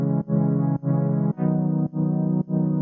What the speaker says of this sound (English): you can hear diva in all its glory with effects